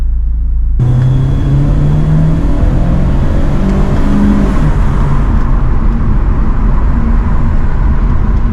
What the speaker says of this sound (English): You can really hear the car